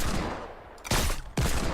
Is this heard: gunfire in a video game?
yes